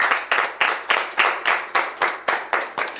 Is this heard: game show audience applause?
yes